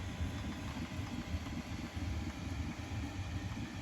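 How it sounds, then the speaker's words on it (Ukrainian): A Bambu Lab A1 mini 3D printer hums steadily with cooling-fan whir and low mechanical vibration, a faint, continuous drone with no voices. "І ну, вентилятор в нього шумить реально, а все інше це ось ці такі вібрації."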